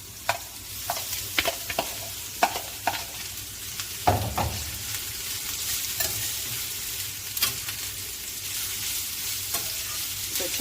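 Garlic and carrot fry in a hot pan for chakalaka, a steady close sizzle broken by repeated sharp scrapes and clinks of a spoon stirring, with one louder clatter midway; no voices.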